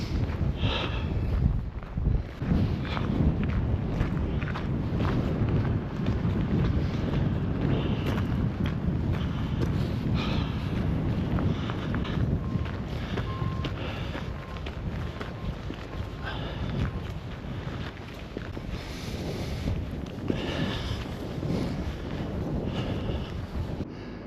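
Strong wind buffets the microphone on the Iceland coast, a continuous roaring rumble with gusty surges throughout, with faint hints of surf underneath.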